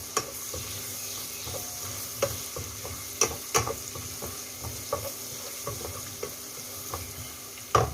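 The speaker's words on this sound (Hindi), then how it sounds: "प्याज ऐसे सौते हो जाएगी मीडियम फ्लेम पर" Onions sautéing over a medium flame for Kabuli pulao, a steady close sizzle broken by frequent sharp clicks and scrapes of a spoon stirring against the pan, with no talking.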